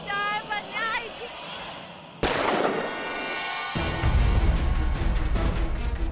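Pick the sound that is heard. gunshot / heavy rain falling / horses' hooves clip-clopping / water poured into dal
gunshot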